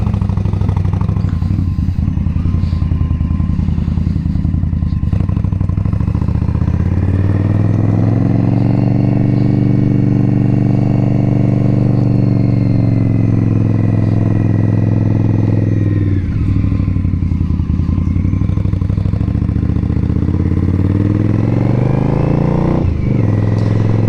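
An Indian Bobber motorcycle ridden on a cold day, its engine droning steadily and loud, rising in pitch as it accelerates, then dipping briefly at a gear change before pulling again, with no talking.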